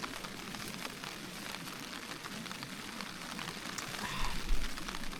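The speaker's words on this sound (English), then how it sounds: "Look at that rain." Steady rain falls on open moorland at Dartmoor, a dense, even hiss of drops close by that swells slightly near the end.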